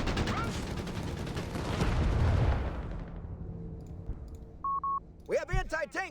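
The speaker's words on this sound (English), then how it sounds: "Shots fired here with the Greyhound." Gunfire and explosions from Company of Heroes 3 battle play in the video game, a dense rumble of shots that fades out over a few seconds, followed by game interface beeps and a voice chirping briefly.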